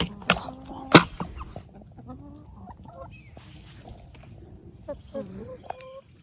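Backyard chickens give soft, scattered clucks and short calls at close range near a compost pile, along with a couple of sharp knocks and faint background hiss.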